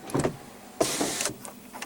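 Electric sunroof motor of a 2015 Chevrolet Tahoe whirring in short faint bursts inside the cabin, with a couple of soft mechanical clicks, no talking.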